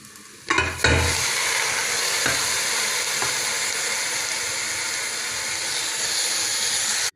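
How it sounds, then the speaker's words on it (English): Beef bones drop into a pan of cooked ginger and onion and start to fry, with a sudden loud onset and then a steady, close sizzle that holds to the end. "After the ginger and the onion is cooked, put in the tulang."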